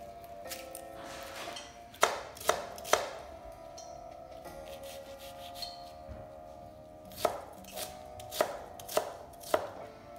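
A knife chops a shallot on a board with crisp, close taps, first in a quick burst, then a pause, then another short series of cuts, with no talking.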